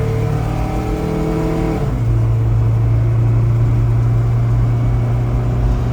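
A 1995 Geo Tracker engine at wide open throttle, a loud steady drone with a strong harmonic whine that drops in pitch and settles into a sustained hum after about two seconds.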